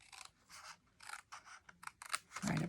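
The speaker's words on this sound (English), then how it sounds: "I'm going to just take my scissors. I'm going to cut right on this line, right up to there." Scissors cut along a drawn line on a craft piece, producing a series of crisp, close snips that come in short bursts with quiet gaps between them, with no voices.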